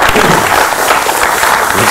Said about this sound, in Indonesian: Boleh kita beri tepuk tangan untuk pertanyaan pertama.